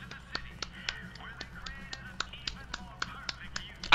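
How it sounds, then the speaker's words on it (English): Crisp claps repeat in a steady rhythm, about three per second, close and moderately loud, from the BioShock Infinite game, with faint background sound underneath. "Should I just stay here and clap my hands?"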